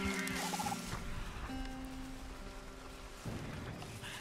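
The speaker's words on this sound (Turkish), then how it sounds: "Etrafta hindi dolu ha." Wild turkeys gobbling in the Red Dead Redemption 2 game world, a short burst of bubbling gobbles up front fading into a soft ambient outdoor bed.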